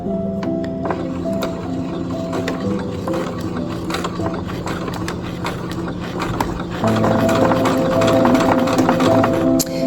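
A sewing machine back stitches a seam with a rapid, even mechanical clatter, the needle's rhythmic chatter growing louder and busier partway through.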